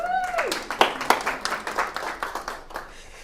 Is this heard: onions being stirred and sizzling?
no